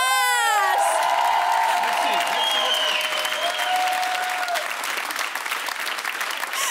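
A French television show's studio audience breaks into loud applause and cheering for the act, with whoops and shouts over dense clapping while a bright musical tone rings and trails off in the opening seconds.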